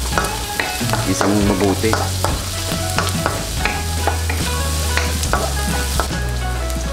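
Garlic sautéing in a pan for wild boar adobo, with steady sizzling and frying under repeated stirring and utensil scrapes against the pan, close and fairly loud; a voice speaks briefly.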